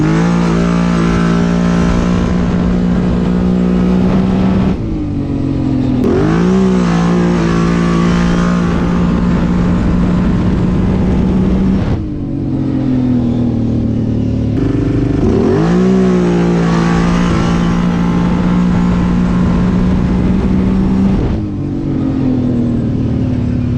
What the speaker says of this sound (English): So here's a couple clips of racing and trying the nitrous.